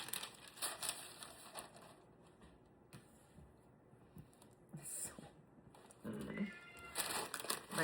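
A house cat crying at a bathroom door for attention, several short plaintive meows spread across the stretch, faint and somewhat distant, separated by quiet gaps with occasional small knocks.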